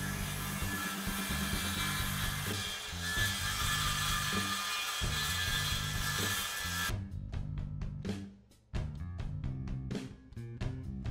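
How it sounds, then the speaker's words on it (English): A saw making the first cut through a wooden rail to form the kerf, a loud close grinding buzz that runs steadily, then breaks into a series of rhythmic rasping strokes after a short pause. "The initial cut lays the kerf bed and trims up that rail."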